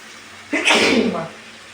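A single sharp sneeze from a person cooking a Sunday chicken curry at home, loud and close, rising suddenly and trailing off within about a second.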